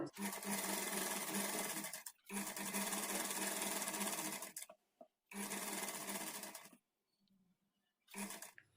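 An electric sewing machine running a double stitch along a blouse sleeve seam, whirring fast and loud in four bursts separated by short pauses.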